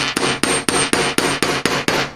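Metal hammered over a rounded block corner: eight sharp, evenly spaced blows in quick succession, each a bright ringing strike, close and loud with nothing else heard.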